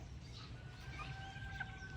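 Chickens about three months old cluck and call faintly at a poultry farm, with a thin high call over low background hum.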